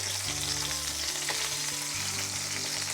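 Pieces of sea bass frying in a pan, browning to a golden crust, with a steady bright sizzle and a low hum underneath, continuous and close with no talking.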